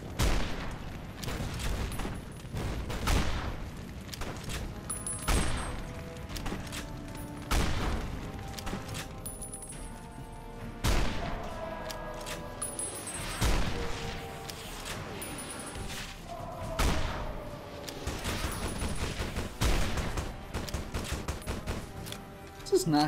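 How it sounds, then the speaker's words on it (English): Anti-materiel rifle gunfire in the video game Fallout New Vegas during a Hoover Dam battle, heavy shots and bursts cracking repeatedly amid dense, loud combat noise and game music. "Get the anti-material rifle out."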